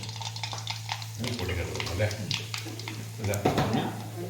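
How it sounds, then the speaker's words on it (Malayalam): Mustard seeds sizzle and crackle in hot oil while a papaya pickle is started, a steady close frying hiss with a few louder bursts, with brief clinks and some voice in the background. "നമ്മൾ കടുക് ഇടാൻ പോവാണ് കടുക് ഇട്ടു എണ്ണ ചൂടായിട്ടുണ്ട്"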